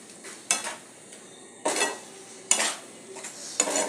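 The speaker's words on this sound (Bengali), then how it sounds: "এইভাবে ভালো করে নাড়তে থাকবো" A spoon stirs food in a pot on the stove, giving four separate scraping bursts at a slow, uneven rhythm, close and moderately loud, over faint background noise with no speech.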